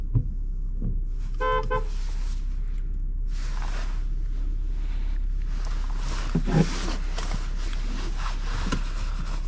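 The horn of a 2024 BMW X4 M40i gives a single short honk early on. Before and after it, a quiet, steady cabin hum fills the car, with a few faint bumps and rustles.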